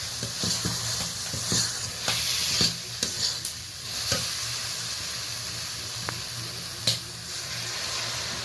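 Mourala fish curry, a spicy dish of large roe-filled pond fish, sizzles and bubbles steadily in the pan after a little water is added, with scattered scraping clicks from a stirring utensil and no talk.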